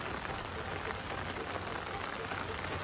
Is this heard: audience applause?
no